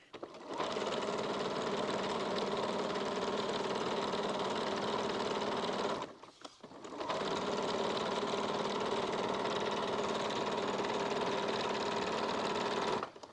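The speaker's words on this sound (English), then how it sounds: "Back at my machine, I'm going to stitch the top edge." A sewing machine stitches the top edge of a collar on a regular stitch in two long, steady runs of even whirring, split by a short stop near the middle.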